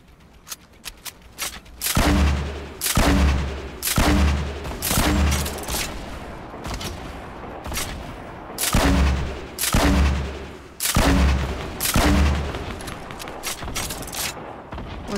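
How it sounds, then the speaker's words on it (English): Repeated heavy grenade launcher blasts in Fortnite on PC, loud booming shots coming in quick clusters with rumbling explosions between them over several seconds, with no voices. "Grenade launcher out."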